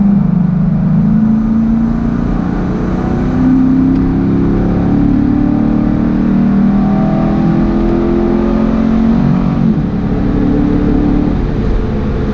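2012 Lingenfelter-tuned Chevrolet Corvette Grand Sport with automatic transmission accelerating hard, a loud close engine roar with rising and shifting pitch sweeps, steady and alone without voices.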